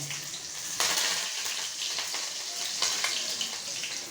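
Onion and garlic hiss and crackle in hot oil, a dense continuous sizzle that swells as the pieces are stirred around the pan.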